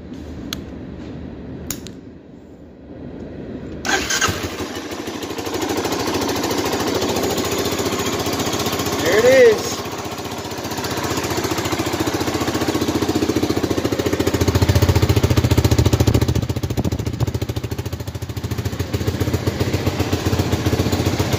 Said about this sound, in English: start with my dad's 1985 Honda Big Red